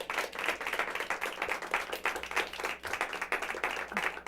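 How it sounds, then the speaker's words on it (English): Audience applause at a live evening performance, a steady crackle of many hands clapping at moderate distance, fairly soft and even throughout with no voices over it. "Wow, applause."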